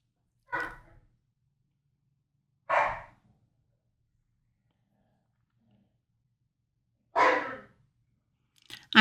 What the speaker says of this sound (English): I'm sorry that you can hear the dogs barking in the background.